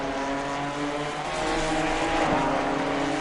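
Race cars, GT4-class Ginettas among them, roar past in an Assetto Corsa Competizione multiclass race at Bathurst, a continuous loud engine whine with a brief swell midway, and faint commentary underneath.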